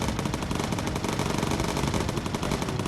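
Rapid machine-gun fire from a bomber's turret in the World War II game Bomber Crew, one dense continuous burst of loud, close rattling shots with no pause.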